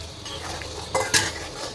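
Chicken meat stirred and fried in a pan, with a continuous close sizzle and a couple of quick scraping strokes from the spatula near the end.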